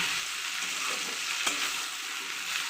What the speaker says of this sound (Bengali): শিমটা একটু মজা আসলে একটু মজতে হবে নুন দিয়ে নাড়াচাড়া করব